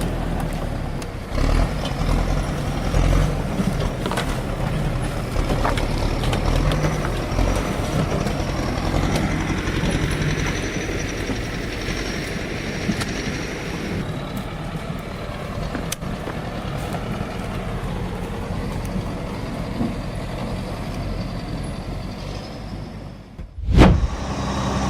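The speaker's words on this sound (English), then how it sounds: "The log truck's rolling easy, until the mud decides it's time to stop." A logging truck labors up a muddy forest incline, its engine a steady, heavy rumble throughout, with a sharp louder burst near the end.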